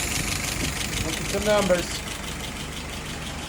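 A car engine idles steadily at about 670 rpm with a fuel pressure gauge and vacuum gauge attached, a low, even rumble close by while someone speaks briefly over it.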